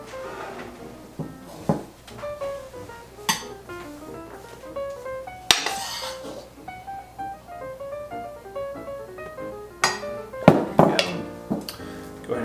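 Flour mixture is stirred into cake batter for a blueberry lemon bundt cake. Repeated tonal metallic clinks and scrapes ring out irregularly, with several sharper knocks, and nobody speaks.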